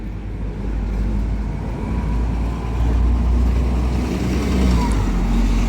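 Bus 27191 on route 8 to Cleethorpes idling or moving at Grimsby Riverhead Exchange bus station, a steady low engine drone with a faint high whine riding over it, close and continuous.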